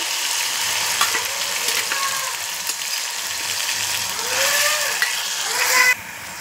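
Ginger, garlic and chili paste frying in a pan for catfish curry, giving a steady close sizzle with scraping stirs and small squeaks, swelling louder before stopping abruptly near the end, no voices.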